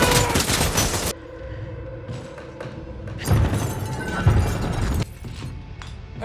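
Rapid volleys of gunfire in the action movie Nobody 2, loud bursts of overlapping shots and thuds in two dense stretches separated by quieter rumbling.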